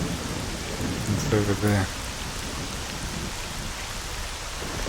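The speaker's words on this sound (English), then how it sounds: "Rain's kinda gonna hide my footsteps." Steady rain pours throughout with a rumble of thunder in the S.T.A.L.K.E.R.: Shadow of Chernobyl game world, while a voice briefly speaks near the start.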